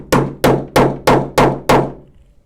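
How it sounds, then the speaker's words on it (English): A hammer strikes a snap setter tool to set a snap on a quilted jacket: six sharp, evenly spaced blows, each ringing briefly before the next, loud and close. "hammer it in"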